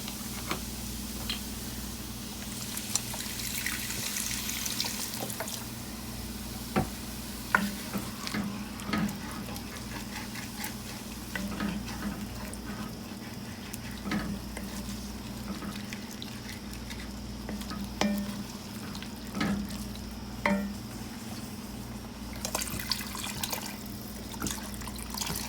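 Chicken broth goes into a hot pan for a cauliflower and potato shepherd's pie, setting off a soft, steady sizzle with scattered ticks and clicks of stirring. The sound stays quiet and close throughout.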